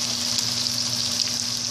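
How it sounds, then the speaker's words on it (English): Food sizzles and crackles steadily in a generous pool of olive oil in a pan, close and continuous, almost like deep frying, with no talking. "I think I put too much oil because this is like deep frying"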